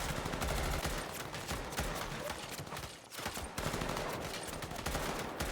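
Gunfire in a Squid Game episode: dense, rapid bursts of shots with a brief pause midway, fairly faint and continuous, with no talk.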